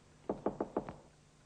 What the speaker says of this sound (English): Now, you knock